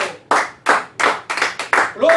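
A church congregation claps in rhythm during a sermon, strong, evenly spaced beats a bit over two per second, close and loud, with a voice rising under the last clap.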